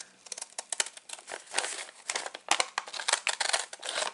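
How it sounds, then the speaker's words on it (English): Paper crinkling and snipping as scissors cut the handles off a paper bag, a busy run of close, crisp rustles and short cuts over about four seconds with no talk. "grab my scissors and cut along that line"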